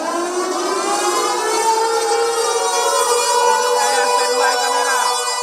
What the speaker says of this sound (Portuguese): uma sirene foi acionada na grande mesquita Baitur Rahman para marcar o início das cerimônias de recordação